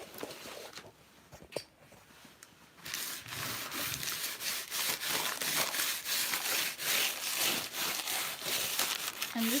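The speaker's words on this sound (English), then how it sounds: "so you take some coconut oil. It's solid. And you rub it on." A hand rubs solid coconut oil onto a surface in repeated close, raspy strokes, quiet at first and then a steady rhythmic rubbing with no talking.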